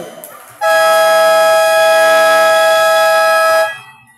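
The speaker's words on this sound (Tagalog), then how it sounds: "Buzzer na lang maririnig." A long, loud electronic buzzer blares steadily for about three seconds and then cuts off, ending the second quarter of a game, with faint crowd noise before and after.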